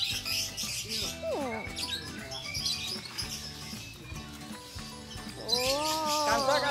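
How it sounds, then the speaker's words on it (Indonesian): A taloan bird in the trees calls with repeated rising and falling whistled chirps, clear and fairly close, over a steady hum of background noise and faint voices. "Burung taloan tuh yang ada di pohon-pohon ini."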